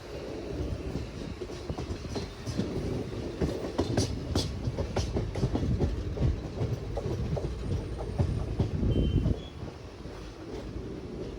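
Train no. 17252, running from Kachiguda to Guntur, rolls along with a steady rumble and rhythmic clickety-clack of wheels, heard from on board with wind buffeting the microphone; the clatter eases off near the end.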